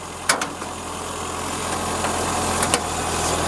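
A classic Mini's engine idles after warming up, following a cooling system repair, a steady low hum with a few light clicks near the start.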